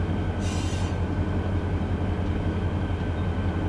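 An older locomotive rolls along rails with a steady, heavy low rumble throughout, a short bright squeal or hiss rising near the start and then fading back into the continuous drone.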